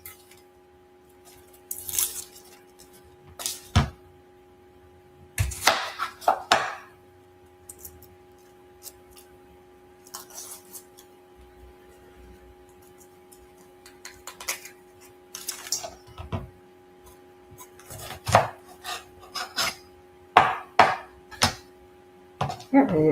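An onion being chopped with a knife: scattered clusters of sharp blade taps on a cutting board, some in quick rapid runs, separated by quiet pauses over a faint steady hum, close by.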